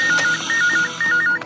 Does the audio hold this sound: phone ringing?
yes